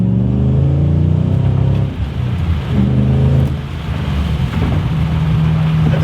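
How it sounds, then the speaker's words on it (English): Car engine revving hard and accelerating from a standstill to 60 on a highway, heard from inside the cab, loud and continuous with rising gear tones, a brief dip around two seconds as it shifts, then pulling again. "Take it out on the highway, get a little 0 to 60 real quick."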